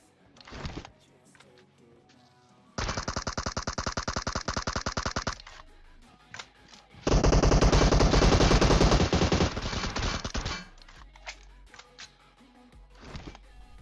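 Gunfire in the video game PUBG Mobile: a sustained rapid automatic burst, then a short pause, then a second, louder and longer automatic burst. Scattered clicks and mechanical sounds come between the bursts.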